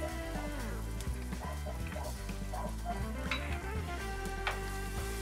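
Garlic frying in melted butter for an Alfredo sauce, giving a steady, close sizzle with soft crackles and occasional stirring scrapes throughout, with no voices.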